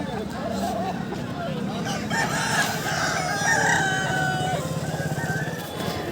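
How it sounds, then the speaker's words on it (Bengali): Roosters crow and chickens cluck throughout a busy chicken market at Balarampur in Purulia, close and lively over a low murmur of voices. "এই যে এটা মুরগির হাট"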